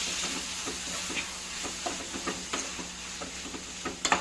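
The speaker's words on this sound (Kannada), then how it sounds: "ಗರಂ ಮಸಾಲ, ಮನೆ ಮಾಡಿರುವಂಥ ಗರಂ ಮಸಾಲ ಹಾಕಿ ತಿರುಗಿಸ್ಕೊತಾ ಇದ್ದೀನಿ." Home-made garam masala is stirred into a pan of frying cabbage: soft sizzling under a string of light scraping and tapping strokes from the stirring spoon, close and fairly quiet.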